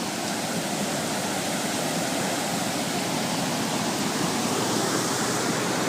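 High, swollen stream water on a rainy farm rushes in a dense, continuous roar, broadband and unchanging, close by with no other sounds standing out.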